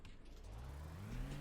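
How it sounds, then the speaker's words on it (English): A car pulls away after being started, its engine note climbing steadily as it accelerates, a close, continuous rising hum with no talking. "And then you just drive off."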